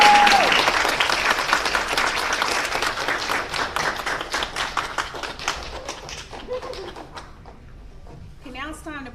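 Warm round of applause for graduates at an occupational therapy hooding ceremony, loud and dense at first, then thinning to scattered claps and fading out, with a voice starting to speak at the very end.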